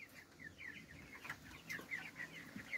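Young organically raised chickens about four weeks old cluck and cheep softly on a farm: a quiet, steady run of short, repeated calls close by, with no voices.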